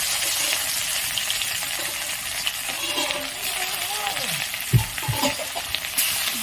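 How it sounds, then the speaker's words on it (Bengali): Loud, continuous sizzling of rohu fish frying in hot oil in a wok, with a few clanks and scrapes of a utensil against the pan. "কড়াই গরম করে তেল দিয়ে দিয়েছি, তেলটা গরম হয়ে গেছে। এবার আমি এখানে দিয়ে দিলাম মাছ।"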